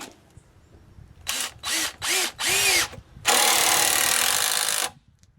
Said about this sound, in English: I'll put a couple more screws in this.